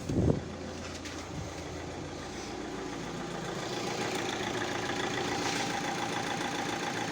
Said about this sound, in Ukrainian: І мотор працює рівно без нарікань.